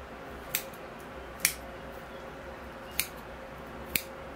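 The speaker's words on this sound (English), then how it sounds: "So I need to cut out my moss in that area" Scissors snip through moss on a bonsai planting, four soft separate cuts spaced apart against a quiet background hiss.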